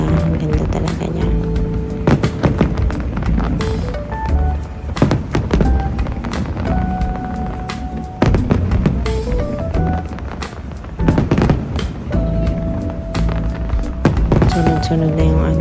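Fireworks display at Al Seef in Dubai during Diwali, a dense barrage of loud bangs and crackles with whistling rises, continuous and close with crowd noise and people talking underneath.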